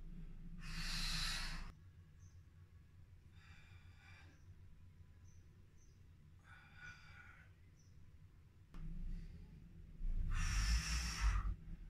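Breathing during a gym ball muscle-strengthening and balance exercise: a long forceful exhale, softer breaths in the middle, then another strong breath near the end, close and clear against low background noise.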